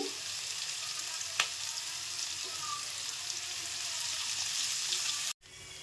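Ingredients for shavige uppittu frying in a pan: a steady, dense sizzle close up with an occasional stir or tap, cut off abruptly near the end.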